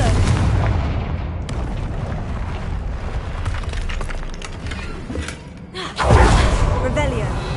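A Confringo fire spell bursts in Hogwarts Legacy, with rumbling game effects building into a loud, deep explosive boom near the end, while voices talk over parts of it.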